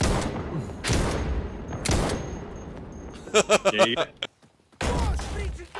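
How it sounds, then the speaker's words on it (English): Rifle gunfire in the tactical shooter Insurgency Sandstorm: a few heavy single shots, then a quick cluster of sharp cracks, a brief silence, and another loud burst near the end. "I'm just deleting people with my rifle right now."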